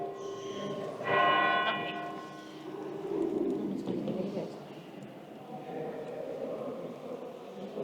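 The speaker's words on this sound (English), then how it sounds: "And that's the bell." A church bell rings in Mdina, Malta, one clear resonant strike that decays slowly, heard over outdoor ambience and a person talking.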